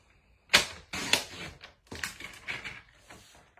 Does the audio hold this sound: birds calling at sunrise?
no